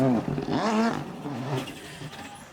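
A Volkswagen Polo R5 rally car on a rally stage revs hard nearby, its engine note climbing and dropping through quick gear changes before fading slightly as it pulls away.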